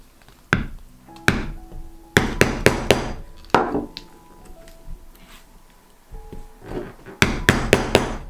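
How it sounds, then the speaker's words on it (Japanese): A hammer raps a leather pricking chisel to punch stitching holes in a leather card case. The blows are sharp and close, coming in quick clusters of three to five with short pauses between groups. "穴を開けていきます。"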